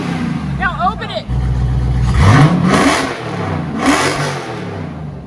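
Jeep engine revving hard with the exhaust fully open, a loud rising roar that climbs twice, with excited voices talking around it.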